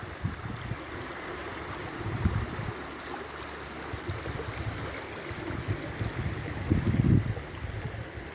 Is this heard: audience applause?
no